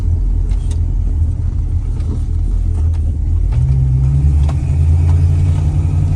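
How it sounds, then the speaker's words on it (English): A Mustang drives along backcountry roads on a very hot day, its engine a steady low rumble that thickens into a louder drone partway through as it pulls harder, with constant road noise and no talking. "It's our first time driving this car."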